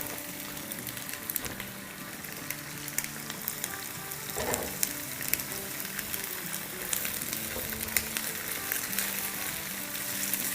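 Carrots and a large onion separated into layers fry in a pan, giving a steady close sizzle for the whole stretch with a brief stirring scrape near the middle and no talk.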